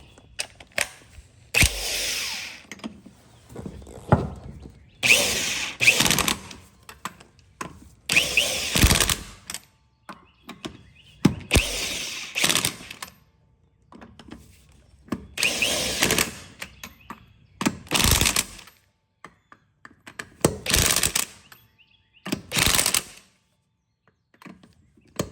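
Ratchet with an 11/16 socket working on a stuck brake hub of a Kawasaki Mule SX, heard as repeated bursts of metallic clicking and clattering separated by quiet gaps, close and fairly loud.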